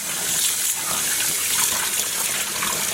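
Cold water runs steadily from a tap into a dye pot, a constant broadband gush with no breaks, close and fairly loud throughout.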